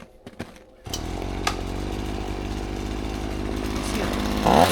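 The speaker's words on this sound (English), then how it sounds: "Huge difference in throttle response right there. So this saw is going to be good." Chainsaw with its air filter cover removed starts up after a few knocks and runs loud and close, a sustained rasping drone that climbs as the throttle opens near the end.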